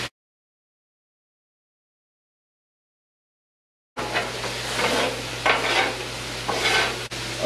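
Thin-sliced chicken for fajitas fries in a pan, a continuous close sizzle with occasional stirring scrapes, beginning abruptly after several seconds of silence.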